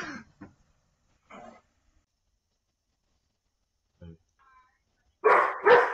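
Dogs bark in short bursts separated by silence, with a loud double bark at the end; close and sharp, with brief human vocal sounds mixed in.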